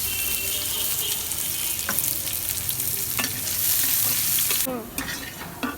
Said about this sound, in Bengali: আর এই যে দেখেন, শুকনো মরিচ, পেঁয়াজ আর রসুন বাগারে দিচ্ছি।